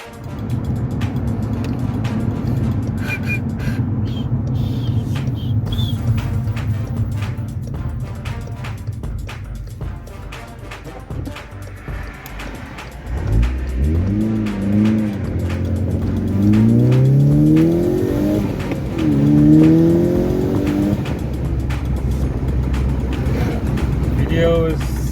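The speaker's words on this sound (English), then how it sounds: "Let's go for a test drive." Car driving on a test drive after a punctured tyre was repaired, its engine a steady low drone with a rising, revving pitch sweep midway, heard from inside under continuous talk.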